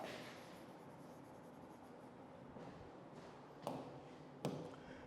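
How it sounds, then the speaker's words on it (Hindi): Chalk or marker writing on a classroom board during a physics lecture, a faint continuous scratching with two sharp taps near the end, set against low room noise. "यहां पर लिखता हूं।"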